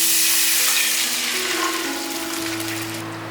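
Water poured into a hot wok of oil-fried fermented black beans bursts into a loud, bright sizzle that gradually fades and settles over a few seconds, with no talk.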